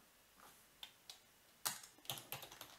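Someone typing a database command on a computer keyboard: a few sparse key clicks at first, then a quicker run of close, light keystrokes with no voice.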